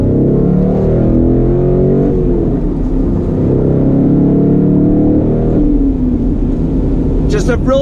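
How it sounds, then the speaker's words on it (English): 2019 Ford Mustang GT with the PP2 package accelerating through a left-hand bend, a deep steady engine drone with rising harmonic tones heard under a voice throughout, with a brief high clatter near the end. "Roll on the throttle."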